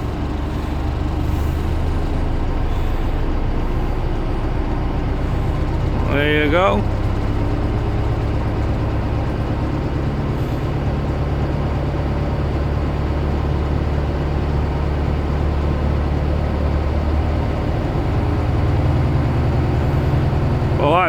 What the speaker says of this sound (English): Still running a bit of veg oil on the old girl, but she's running.